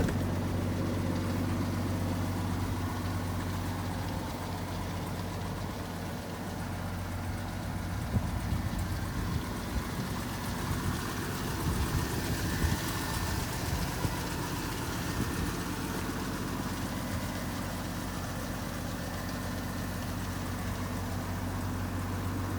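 A 1982 Ford F150 truck with a 4.9-liter inline-six and stock exhaust idles steadily nearby, a continuous low rumble that roughens and pulses a little midway, with no talking.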